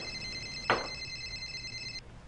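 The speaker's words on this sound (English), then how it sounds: "Is somebody going to answer the phone?" A telephone rings with a steady electronic trill for about two seconds, then cuts off, with a brief thud partway through and a quiet room behind it.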